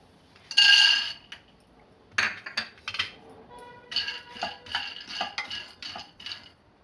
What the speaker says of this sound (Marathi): आता याच कढईमध्ये आपल्याला शेंगदाणे भाजून घ्यायचे आहेत.